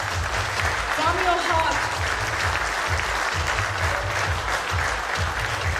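An audience at a nursing awards ceremony applauds the honourees on stage, sustained full-room clapping that holds steady throughout, with a low rhythmic musical beat underneath and a brief voice-like tone early on.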